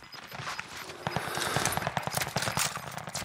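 Fast, quiet gunfire in a Warzone match, a stream of sharp cracks in quick succession and some distance off, sitting in a busy background with no talking.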